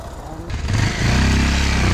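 A motorcycle, just back from a clutch repair, revs up for a test ride, its engine rising from a low idle to a loud, close, steady drone.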